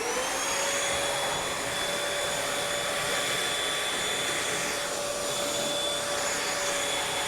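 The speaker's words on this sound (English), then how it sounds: "here's the test with the Bissell FeatherWeight on carpet." A Bissell FeatherWeight stick vacuum cleaner runs on carpet with a steady, loud, high-pitched motor whine and airflow hiss, constant throughout with no pauses.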